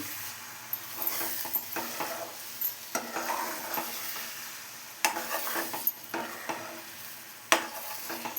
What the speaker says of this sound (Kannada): ಎಗ್ ಆ್ಯಡ್ ಮಾಡ್ಕೊಳ್ಳಿ. ಈಗ ಚೆನ್ನಾಗಿ ಮಿಕ್ಸ್ ಮಾಡ್ಕೊಳ್ಳಿ.